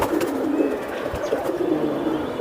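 Giribaj pigeons coo in low, soft murmurs that overlap into a steady, close bed of sound, with no talk over it.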